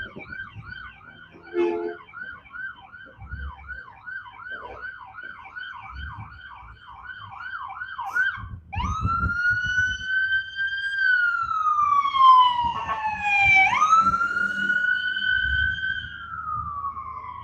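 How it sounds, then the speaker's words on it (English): A fast yelping siren gives way to a loud, close wail that rises and falls as the ambulance goes by in Broadview, Illinois, engine rumble beneath. "That's like the 4th ambulance I've seen go by."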